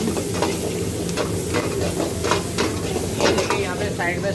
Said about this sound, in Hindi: chop cabbage, chop carat, chop capsicum red yellow, chop been, तो मिक्स कर लेंगे हम